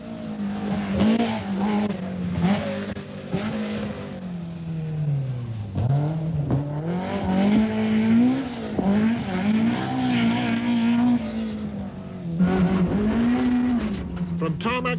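In-car engine note from a BMW rally car on the Lurgan Park stage, with harmonic pitch rising and falling through gear changes as the car runs over mixed tarmac and loose surfaces. The engine is loud and continuous for the whole stretch.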